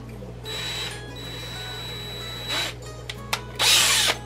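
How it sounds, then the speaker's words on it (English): A power drill bores a hole into a tank for an air-powered egg collector, with several short whirring bursts of varying length separated by pauses, close and clear with no talking. "And we'll drill a hole"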